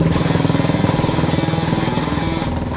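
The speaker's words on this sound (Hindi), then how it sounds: "अद्भुत तरीके से मोटरसाइकिल पर साइड बैलेंस बनाते हुए नायक केपी सिंह।" A motorcycle engine thrums nearby during a daredevil side-balancing stunt show, with a fast, regular pulsing beat, steady and loud throughout the short stretch.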